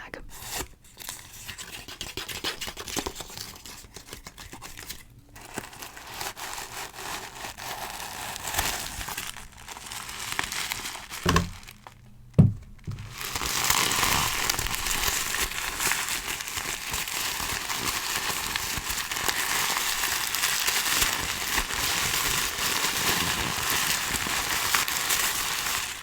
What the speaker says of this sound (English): let me go ahead and take out all of the tissue paper because those will make good sounds.